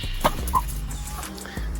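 Chickens on a Kenyan farm give a couple of short, close clucks amid a low background rumble, brief and spaced out with no talk.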